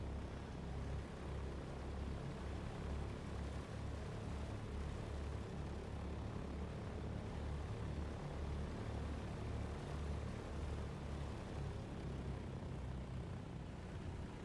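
A Douglas DC-3 propeller airliner in a flight simulator drones steadily in flight, a constant low engine hum with a throbbing propeller beat that stays at the same loud level throughout, with no voices.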